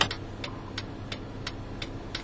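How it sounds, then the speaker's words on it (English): Car turn signal ticking inside the cabin: a steady, evenly spaced series of crisp clicks, about three per second, close and moderately quiet over a low hum. "I'll go ahead and activate this turn signal."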